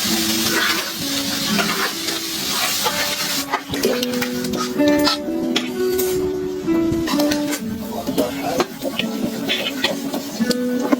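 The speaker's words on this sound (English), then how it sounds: "everyone gets back to work, with Amina stir-frying boiled chickpeas until they release a rich aroma." Boiled chickpeas sizzling and scraping in a hot pan as they are stir-fried, with steady stirring clatter and faint background noises throughout.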